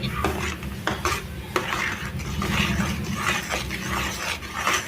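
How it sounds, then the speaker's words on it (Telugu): Mango pulp and sugar cooked down in a pan while being stirred continuously, a close, busy scrape and clatter of a spoon against metal with soft bubbling underneath. "ఐదు నిమిషాల వరకు ఇలా కలుపుతూనే దీన్ని ఉడికించుకోవాలి"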